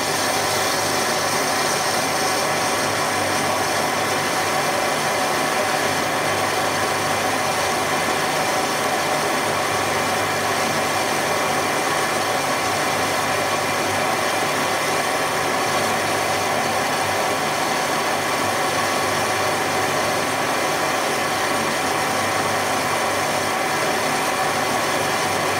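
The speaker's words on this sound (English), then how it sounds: "Slightly bigger cut this time." Warco GH1440 metal lathe running on a variable frequency drive while taking a slightly bigger cut, giving a steady, continuous machine hum and whir with broadband noise that holds unchanged throughout, with no speech.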